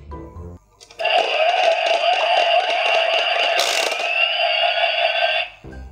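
A DX Tajaspiner toy from Kamen Rider OOO spins inside after a button press, giving a steady, loud electronic whirring tone with a brief burst partway through, lasting several seconds alone before cutting off.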